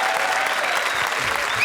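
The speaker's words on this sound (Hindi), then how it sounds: "तालियां।" A studio audience at a televised comedy show breaks into applause, a dense, loud wash of many hands clapping continuously throughout, with faint voices mixed in beneath.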